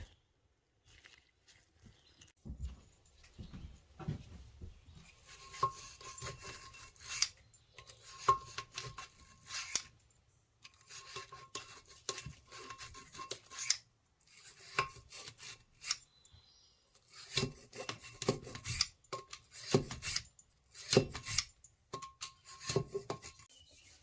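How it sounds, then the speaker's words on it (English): A brush scrubs the valve guides of a small-block Mopar 318 cylinder head in bursts of rapid, raspy scraping with short pauses between strokes, close up and fairly quiet, with no voices. "I'm gonna run this brush to these valve guides"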